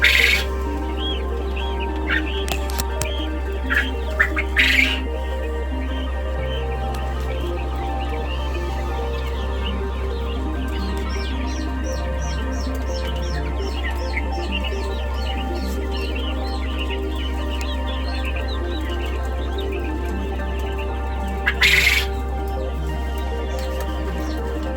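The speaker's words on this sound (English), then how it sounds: "Hey, you little birds." A flock of laying hens among other poultry, clucking and squawking steadily throughout, close and fairly loud, with a few sharper calls standing out over the dense, continuous chatter.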